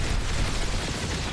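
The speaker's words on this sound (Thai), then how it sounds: "อุ๊ยระเบิด" A Planetside 2 explosion, a dense, loud, rumbling blast that fills the whole clip as a continuous roaring wash with heavy low end and no voices over it.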